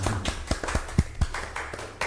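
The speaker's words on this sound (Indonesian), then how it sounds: "Beri tepuk tangan buat kita semuanya guys." Podcast hosts clap their hands in a studio, a few separate, uneven claps spaced roughly a quarter second apart over a faint background hum.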